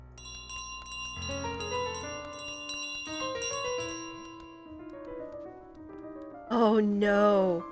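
Bell in Untitled Goose Game: a run of bright, ringing tones decays over plinking background music, then a louder, warbling burst of sound closes the sequence.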